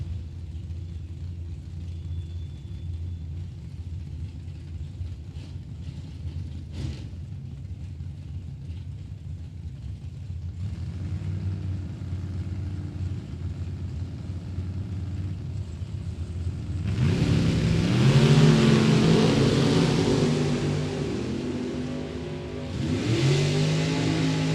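Drag racing cars at a Michigan motorplex, among them a 1990 Camaro, rumble at the line and then roar hard down the strip, a loud broadband surge rising midway and swelling again near the end, with no talk.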